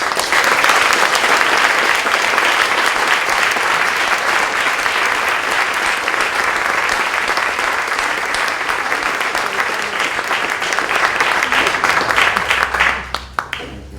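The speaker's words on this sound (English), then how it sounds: "A big round of applause to the best friend of downtown Walnut Creek." Audience applause at a community awards ceremony in downtown Walnut Creek, a loud, dense, steady wash of many hands clapping that carries on for most of the stretch before tapering off at the very end.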